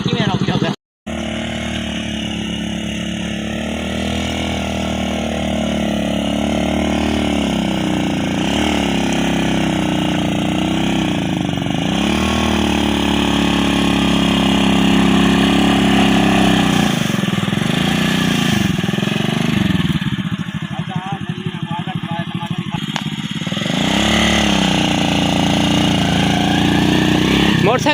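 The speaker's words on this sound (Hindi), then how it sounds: "मोटरसाइकिल है पीछू" A motorcycle engine drones steadily for the whole stretch, close and loud, with pitch rising and falling as it revs and passes. One sharp break comes near the start.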